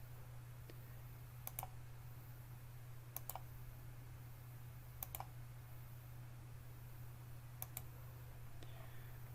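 Sharp computer mouse clicks come in quick pairs at a few spaced intervals over a faint steady electrical hum in a quiet room, with no talking.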